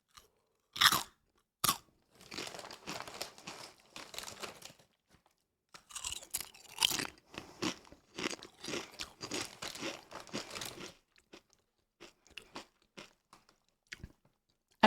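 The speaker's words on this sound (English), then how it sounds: "But the chips also do have a good crunch" Someone crunches chips right up against a close microphone, making loud, crisp bites followed by bursts of chewing crackle. The bites come in irregular clusters separated by short quiet gaps.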